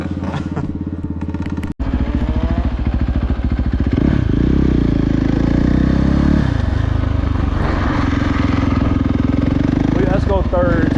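A dirt bike engine roars close up during a power wheelie, holding a loud, buzzing drone that climbs in pitch with the revs and drops briefly as the rider shifts gears partway through.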